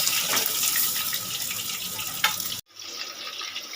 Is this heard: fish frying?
yes